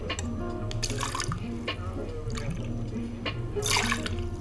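Freshly juiced cucumber juice pours into a cocktail, a brief, faint trickle and splash of liquid over light background noise.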